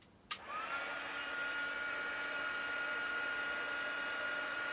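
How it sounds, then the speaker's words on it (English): A heat tool switches on with a sharp click and then blows steadily and loudly at close range, a continuous whirring hiss with a faint tonal whine, while embossing powder is melted on a handmade card. "we're just going to get noisy for a minute as I heat emboss this"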